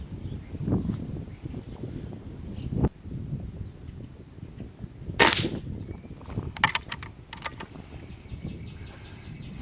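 An airgun fires an H&N 21 grain slug outdoors at a 35-yard target, a sharp crack near the middle standing out over steady background noise, with a few fainter clicks after.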